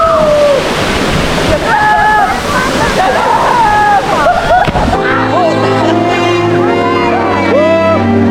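A waterfall at Bolinao, Pangasinan pours and splashes in a steady, loud rush for about five seconds while voices call out, before the water noise drops away and tonal music takes over.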